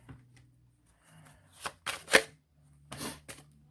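Tarot cards being shuffled by hand during a reading, close and quiet: a few soft riffles and slaps building to sharper bursts, with faint room hum between.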